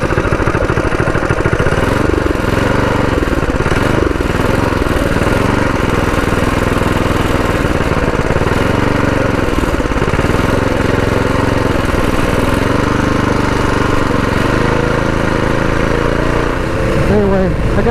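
Predator 212 engine on a built mini bike running steadily, a loud, close, continuous buzzing drone with slight shifts in pitch throughout.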